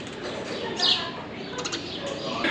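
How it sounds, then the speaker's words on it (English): A small bird chirps and flutters nearby indoors on a renovation site, brief bright calls over a noisy room background with no speech. "Hello there, little bird."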